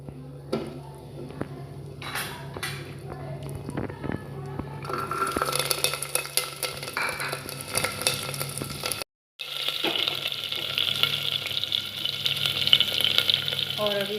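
Garlic, whole dried red chillies and bay leaves sizzle in smoking hot oil for a chicken curry, a loud continuous frying hiss with stirring clatter, briefly cut off before resuming more intensely.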